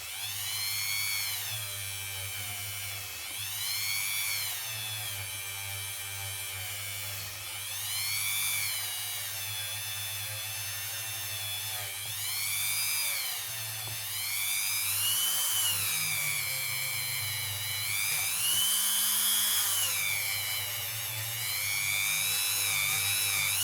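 Rotary tool fitted with quad zero steel wool buffing fire scale off a ring made from a one shilling coin, a continuous high whine that rises and falls in waves as pressure changes, loud and close with no talk.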